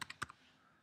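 A few quick keystrokes on a computer keyboard, faint and close, about four light clicks in under half a second, then quiet room tone.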